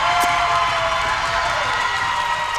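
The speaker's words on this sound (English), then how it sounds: "I got the Frontenac crowd fired up" Crowd in a high school gym cheering and shouting at a 3A sub-state championship volleyball match, a loud, steady roar of voices that fills the whole stretch without letting up.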